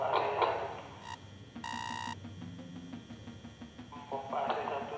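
A SCADA water-process control system sounds an alarm for a simulated failure of pump AC1: a bright sustained electronic tone with short beeps around it, mixed with a voice speaking before and after.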